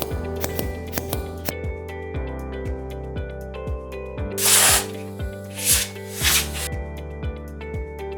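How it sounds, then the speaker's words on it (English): Compressed air is applied to a valve's input port with the output blocked for a leakage test: a few short, sharp hissing bursts over a steady pattern of quiet ticking and clicking. "Apply air pressure to the input port while blocking the output port of the valve."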